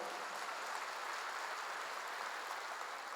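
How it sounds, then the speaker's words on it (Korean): A church congregation claps steadily during a worship service, a continuous even wash of applause at moderate distance with no voices over it. "박수로 하세요."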